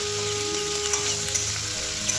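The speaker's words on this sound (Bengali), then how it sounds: "পেঁয়াজগুলো হালকা নরম করবো, খুব বেশি ভাজা ভাজা করবো না, একটু নরম হয়ে যাবে।" Onions with a little salt and sugar fry gently in a pan, giving a steady close sizzle with a few soft stirring scrapes and no voices.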